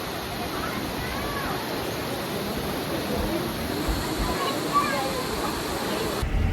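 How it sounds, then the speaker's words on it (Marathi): Water flows steadily near the Naina Devi temple in Nainital, a constant rushing wash that stays even throughout, with faint voices speaking in the background. "पाण्याचा जरा आवाज येता"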